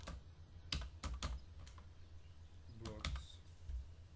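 Keys clack on a computer keyboard nearby in a few quick clusters of strokes, fairly quiet, against a low background hum with no voice over the keystrokes.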